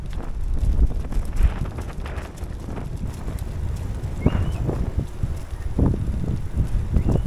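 Strong gusty wind buffets a cyclist's microphone on a coastal road beside the open sea between Vanh Thanh and Lang Co, a steady low roaring rumble with heavier gusts throughout and no talking.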